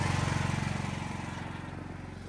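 Portable generator engine running hard under load, a close, throbbing rhythmic chug with a steady low pulse that gradually eases slightly in loudness.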